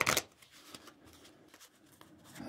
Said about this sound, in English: I'll shuffle them up one more time.